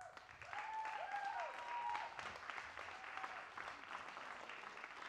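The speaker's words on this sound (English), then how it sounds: "So let's applaud them here on stage." Warm audience applause at a TEDx event, steady and moderately distant, with a faint whistle-like tone drifting over the clapping early on.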